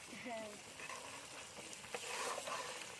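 Chicken with homemade sour yogurt is sautéed in a pan with a soft, continuous frying sizzle and light stirring scrapes, close but fairly quiet.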